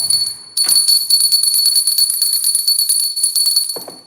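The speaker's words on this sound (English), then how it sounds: "Where's my bell?" A bell rings repeatedly in quick succession, a bright, sustained metallic tone with sharp strikes, loud and close, with no talk.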